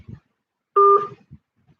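Dialing tones from a telephone, one short two-tone beep sounding clearly between faint clicks and handling noise, close and isolated.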